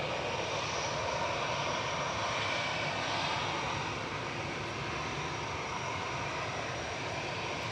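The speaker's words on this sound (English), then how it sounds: "787-9 Dreamliner. It's SCRFZ about to touch down on 23 right." A TUI Boeing 787-9 Dreamliner inbound from Cancun comes down to touch down on runway 23 right at Manchester Airport, its engines a steady broadband roar that stays loud and even throughout, with no talk over it.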